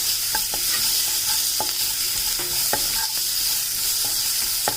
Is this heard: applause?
no